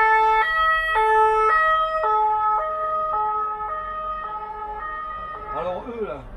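An ambulance siren passes close on a street, a loud two-tone hi-lo wail alternating steadily and slowly fading, with a voice briefly heard at the end.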